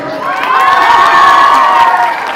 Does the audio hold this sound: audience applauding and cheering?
yes